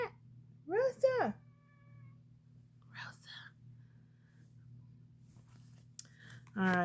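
A house cat gives a close, drawn-out meow, then a shorter second call, over a low steady hum with faint whispery sounds and a small click between them.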